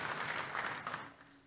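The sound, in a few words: audience applause in church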